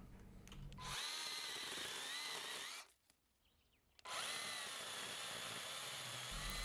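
A Dnipro-M CS-12 cordless mini chainsaw cuts raw acacia wood in two sustained whining runs with a short quiet pause between them, close and steady.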